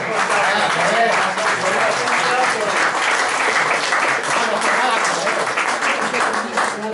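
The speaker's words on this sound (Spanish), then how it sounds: "Vamos a dar un aplauso, simplemente." A political summer-school audience applauds in a sustained, loud, even wash of clapping, with voices mixed into the crowd noise throughout.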